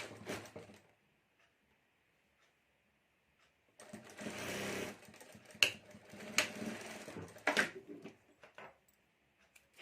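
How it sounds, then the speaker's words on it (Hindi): A sewing machine stitches the border and pocket of a fabric clutch together in short whirring runs, one burst at the start and then several rattling bursts close together, with quiet pauses between. "यहाँ में सिलाई करके बॉर्डर के साथ हमें बॉर्डर ये पॉकेट दोनों जोड़ देना है एक साथ।"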